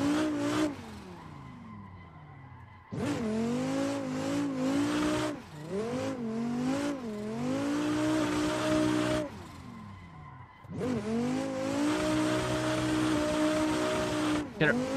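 A Dodge Viper driven hard on tight mountain roads, its loud engine revving up through gears in repeated rising sweeps, with brief lifts and pauses between hard pulls, close and dominant.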